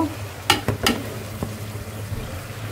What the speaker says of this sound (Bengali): আলুগুলো ঢেলে দিয়ে একসাথে কষাবো